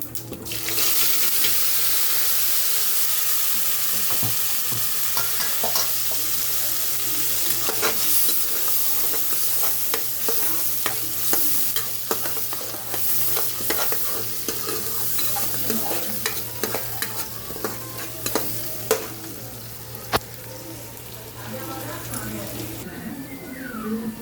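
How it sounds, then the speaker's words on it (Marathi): Tomato paste with cumin and turmeric fries and sizzles in a pan, a steady hiss with scraping stirs and clinks throughout, while a person talks over the cooking. "जिरे घालूया, थोडीशी हळदी घालूया आणि त्याच्यानंतर ही टोमॅटोची पेस्ट घालायची आहे आपण आता"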